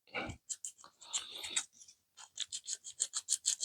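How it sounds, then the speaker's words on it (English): Fine sandpaper rubs tiny plastic model kit parts for a Tamiya P-51D Mustang, a close, quiet series of short scratchy strokes that settle into a quick, even rhythm. "you really do need to be careful when you're sanding these little bits off."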